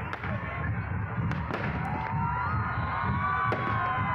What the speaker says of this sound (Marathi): येथे आतिषबाजी झालेली आहे फटाक्यांची।